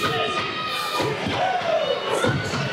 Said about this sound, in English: Oh, big splash into the corner.